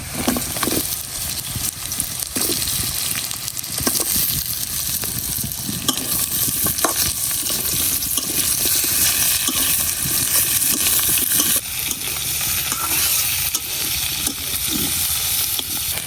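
Potatoes fry with onion and garlic in a pan, a dense continuous sizzle broken by scraping stirs and clinks of a spatula, close and loud without talk.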